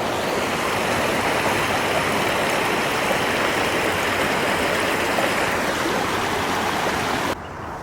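The Truckee River, the only outlet of Lake Tahoe, rushes past close by in a loud, steady broadband roar of flowing water that cuts off abruptly near the end.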